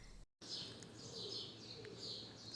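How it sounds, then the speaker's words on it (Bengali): Birds chirp and coo softly in the early morning in Saudi Arabia, with faint, repeated high calls in the distance over a quiet background hum. "পাখির কিচিরমিচির শব্দ ওয়াও কি যে ভালো লাগতেছে"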